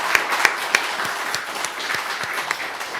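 A church congregation applauding at a twentieth-anniversary ordination service, a dense crowd of hand claps with a few sharper close slaps standing out, steady and fairly loud throughout.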